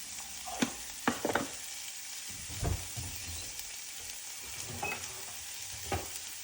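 Sliced coconut roasting in oil with salt and turmeric powder, a faint, steady sizzle broken by a few scattered clinks and scrapes of a utensil against the pan.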